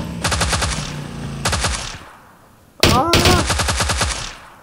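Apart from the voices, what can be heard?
gunfire in the video game PUBG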